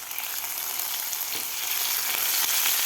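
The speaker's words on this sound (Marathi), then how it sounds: "मिरच्या सुद्धा आपल्याला व्यवस्थित लसणाबरोबर फ्राय करून घ्यायचे आहे" Crushed green chilies frying with garlic in hot oil for a yogurt kadhi, a steady, close, loud sizzle with faint stirring scrapes and no talking.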